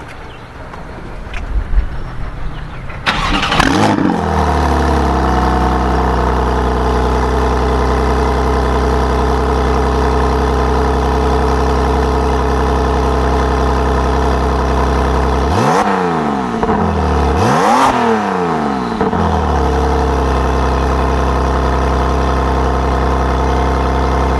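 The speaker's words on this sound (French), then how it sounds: "c'est un démarrage à froid, donc il faut laisser un petit peu chauffer" A Porsche 911 engine idling after a cold start: the start-up and catch near the beginning, then a steady close low idle, with two brief rises and falls in engine speed about two-thirds of the way through.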